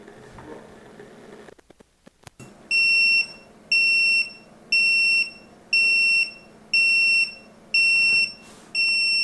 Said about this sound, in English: So a bunch of like 10 really loud beeps there